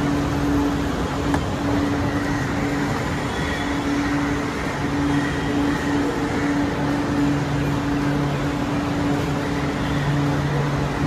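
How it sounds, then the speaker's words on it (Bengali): Chennai Metro blue line train interior, a steady loud rumble and hum with a constant tonal drone throughout, no talking. "চেন্নাই মেট্রোতে উঠে পড়েছি"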